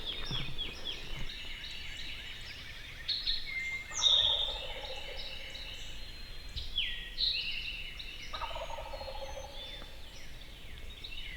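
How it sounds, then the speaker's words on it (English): A wild turkey gobbles in spring woods, with a second tom calling from behind it in thick cover. Several rattling gobbles ring out at moderate distance, no voices heard. "There's another one behind him that gobbled once."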